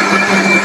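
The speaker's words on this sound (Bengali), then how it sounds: "চমৎকার চমৎকার একটা ব্লেন্ডার" A high-power electric kitchen blender runs at full speed, a loud, steady motor whine with a constant buzzing hum and no pauses, close to the listener.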